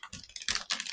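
Packing tape is ripped off a cardboard package in a few quick, crackling tugs, close and fairly loud, each pull a short rasping burst.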